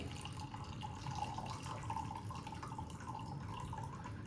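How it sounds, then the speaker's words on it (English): French press coffee pours from the carafe into a mug in one steady, close trickle that flows without a break. "now we're going to pour our coffee into the mug"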